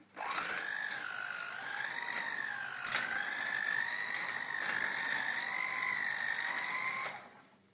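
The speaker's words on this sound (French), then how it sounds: "on va mélanger avec un batteur électrique" An electric hand mixer beats choux pastry dough with egg, its high motor whine running continuously at close range and wavering in pitch as the beaters work, with a few brief clicks, then stopping at the end.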